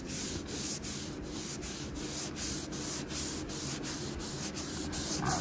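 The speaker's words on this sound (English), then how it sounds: "And what you do, you rub it, watch how fast this comes off." Steady, continuous rubbing of a gasoline-soaked rag over car paint to lift duct tape residue, a close, even scrubbing texture with regular strokes throughout and no talking.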